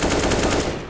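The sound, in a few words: AK rifle spray firing in Counter-Strike: Global Offensive video game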